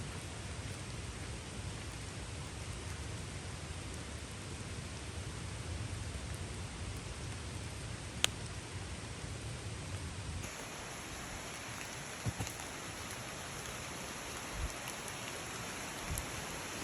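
Steady rain falls in the Great Smoky Mountains during an April backpacking trip, a continuous even hiss that softens partway through, with a few faint drips and taps and no voices.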